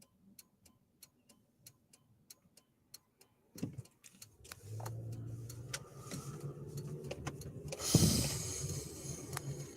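A car's indicator clicks in an even, quiet rhythm before a left turn, then the engine and road noise swell up as the car pulls through the turn, a sharp rustle briefly spiking near the end.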